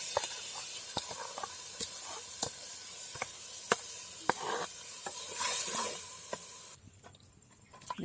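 Freshly ground masala fries in a pan for a Tulu-style sardine fish curry, with a steady hiss and sizzle broken by repeated sharp scrapes and taps of a stirring spoon, ending quieter.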